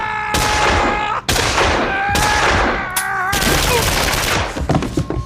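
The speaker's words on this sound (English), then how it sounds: "He stepped into the open, firing from the hip." Audiobook sound effect of 12-gauge gunfire, several loud, sharp blasts in quick succession, each with a ringing tonal tail, close and dense, filling the stretch.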